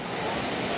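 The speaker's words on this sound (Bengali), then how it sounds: "এই সমুদ্রের জল আসলো" Sea waves wash up on Digha beach in a brief, steady, close rush of surf with a breezy hiss and no speech.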